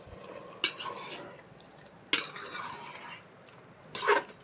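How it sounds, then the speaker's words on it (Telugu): Chicken being stirred with turmeric and oil in a pan for chicken curry, giving three distinct scraping, clattering bursts of spoon against the pan with quiet gaps between, close and moderately loud, with no talk. "బాగా చికెన్ని కలిపి"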